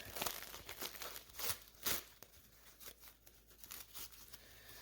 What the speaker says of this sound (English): Unwrapping them.